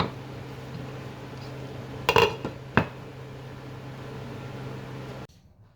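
A metal lid set onto a pot of chicken biryani, two quick clanks in close succession over a low steady hum, then sudden quiet.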